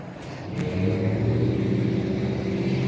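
A TB210 lawn mower engine runs steadily close by with a low, rumbling drone that swells slightly after the first half second and then holds at an even level, with no talking.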